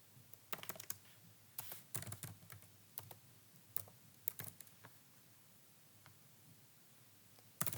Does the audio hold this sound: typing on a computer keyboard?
yes